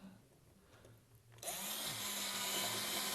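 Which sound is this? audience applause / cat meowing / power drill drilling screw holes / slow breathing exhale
power drill drilling screw holes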